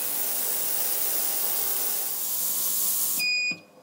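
A heated ultrasonic cleaner holding carburetor parts runs on its high frequency setting, giving a loud, steady high hiss that stops abruptly near the end and leaves a short electronic beep.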